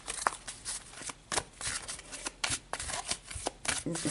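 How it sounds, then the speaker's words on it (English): Tarot cards shuffled and drawn by hand, giving a quick run of crisp riffling bursts and soft slaps, close and fairly quiet, with no talking. "So let's pull one final card for Pisces."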